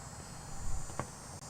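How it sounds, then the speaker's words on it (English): Cicadas drone loudly outdoors on a summer day, a steady, high-pitched buzzing that holds unbroken throughout, with a faint thump near the end. "the cicadas are really loud today"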